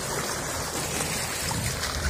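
Floodwater from a river flows around a car in a steady, close rushing wash with no breaks and no voices.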